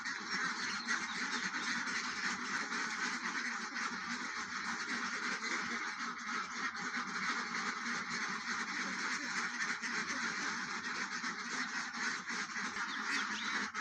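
Farm ducks crowding and calling restlessly before being let out, with a dense, continuous chorus of quacks and honks from many birds close by, steady throughout with no pauses.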